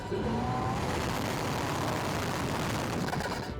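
Toyota Tacoma Trailhunter truck engine heard through an open window, a loud broadband rushing roar of engine and road noise that stays steady and close throughout.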